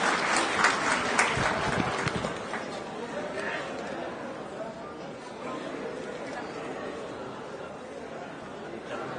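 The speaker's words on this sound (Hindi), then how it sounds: "उनको आने के पहले उनको जोरदार तालियों से स्वागत करें" Audience at a Bihar political commemoration ceremony clapping to welcome a speaker, a burst of applause strongest in the first few seconds, then tapering into crowd murmur and chatter.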